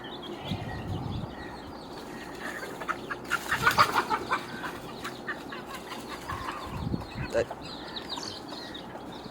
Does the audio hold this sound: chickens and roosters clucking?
yes